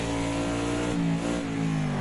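Modern NASCAR race car engine held in third gear around the Nordschleife, a loud, sustained harmonic roar with slight pitch shifts as the throttle eases, no voices over it.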